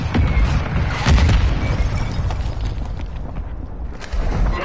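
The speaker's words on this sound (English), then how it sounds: "Mortar strike inbound now." Mortar strike explosions in a PS4 military shooter game, a dense run of heavy low booms and bursts rolling over one another for several seconds with no let-up.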